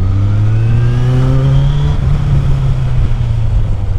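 A motorcycle fitted with a sport exhaust revs nearby on a city street, its loud, steady engine drone rising in pitch and then settling back to a rough idle, with no talking.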